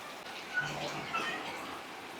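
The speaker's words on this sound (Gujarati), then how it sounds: "ઘટે નહીં એવો વરસાદ પડે છે." Steady rain falling in a village in Botad, a constant wash of broadband hiss with soft splashing, like water pouring onto a surface, continuous and moderately close with no voices.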